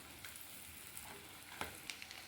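Eggs frying in a pan for a Tamil pepper egg fry, a faint, steady sizzle with small crackles and pops throughout.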